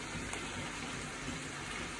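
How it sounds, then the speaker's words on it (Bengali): Water pours steadily into a pot of beef curry, a continuous close gush lasting about two seconds without a break. "এটাতে এখন পানি দিয়ে দিব"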